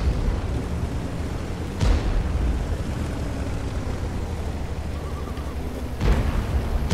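A tank gun fires twice in a tank video game, each shot a sharp boom over a constant low engine rumble, the two blasts spaced several seconds apart.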